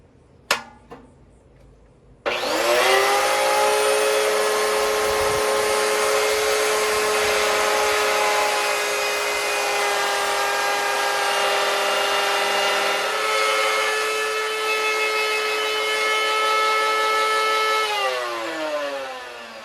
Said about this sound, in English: I'm going to use the router to put a nice edge on it